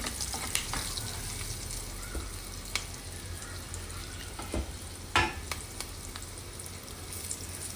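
Chopped garlic pieces dropped into a hot pan for a tomato and fresh coconut chutney, frying with a steady sizzle and occasional stirring scrapes and taps, close and moderately loud, no voices.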